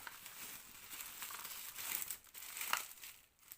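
Taped bubble wrap is crumpled and crinkled close up, with bursts of crackling and tearing rustle that rise and fall in quiet handling.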